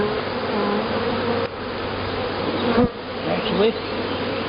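Honey bees from a swarm hive buzz steadily and close in front of the hive entrance, a continuous droning hum with a few louder passes, while a voice briefly speaks.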